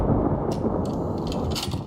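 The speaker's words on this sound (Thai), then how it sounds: "โอ้ฟ้าร้องอย่างดัง" A loud, sustained rumble of thunder rolls through a horror video game, deep and heavy with a few sharper crackling bursts on top, and no talking over it.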